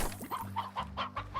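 Hens in the Slime Rancher video game cluck in a quick series of short, close, rhythmic clucks over a low background hum.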